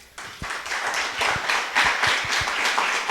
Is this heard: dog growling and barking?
no